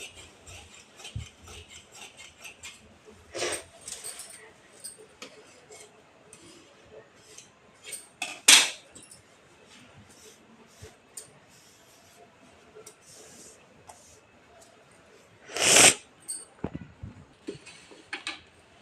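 Scissors cutting fabric for a frock, a few scattered crisp snips and rustles spaced well apart over a quiet, close background.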